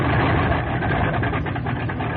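Engine of a 1944 Grumman TBF Avenger torpedo bomber catching and running after starter engagement, a loud steady low rumbling roar with uneven pulsing, close and alone.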